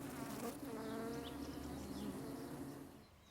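A dense, droning buzz of many bees, steady and fairly close, fading slightly toward the end.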